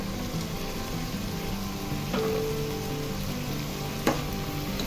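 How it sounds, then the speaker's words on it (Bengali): Rice and lentils tipped into a pan of frying winter vegetables for a vegetarian khichuri, giving a steady close sizzle with a couple of sharp tipping clatters and no talk. "তো এখন আমি চাল ডালটা দিয়ে দিচ্ছি।"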